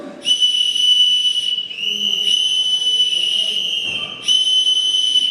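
Three long, loud, piercing whistle blasts, each held for over a second with short breaks between them, sounding alone without talk.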